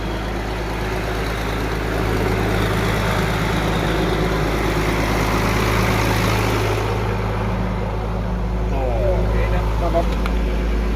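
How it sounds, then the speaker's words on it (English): A Ford 8830 Powershift tractor's diesel engine idling, a steady low rumble that holds throughout at a close, fairly loud level, with someone talking over it. "Runs at a nice idle."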